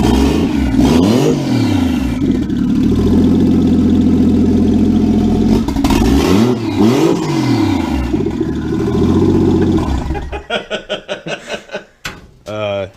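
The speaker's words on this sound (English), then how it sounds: "the exhaust is cut right at the downpipe" A Toyota Cressida's 1JZ engine, its exhaust cut at the downpipe, roars and revs repeatedly with a harsh, unmuffled rasp, then settles into choppy, sputtering idle pulses before cutting out.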